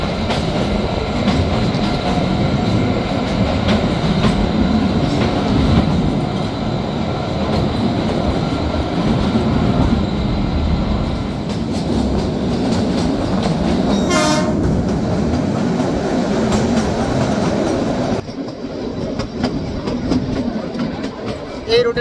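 The Kalka–Shimla toy train rumbles through the long Barog tunnel, a loud enclosed roar of wheels and carriages with rhythmic clatter, a brief horn-like tone partway through, and voices talking over the din.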